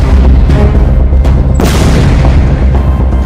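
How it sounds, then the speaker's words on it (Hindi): A powerful explosion from an airstrike in Gaza booms midway through, its deep rumble rolling on amid earlier thuds and ongoing low roaring. "पांचवां धमाका।"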